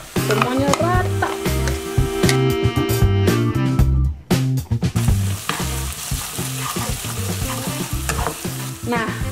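Blended spice paste for ikan hitting a hot pan, frying with a loud steady sizzle and repeated scraping stir strokes throughout, close up with no talk.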